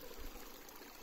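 Water from a mountain stream on a trek in Bajura, Nepal, trickling and babbling steadily and softly throughout, with no voices.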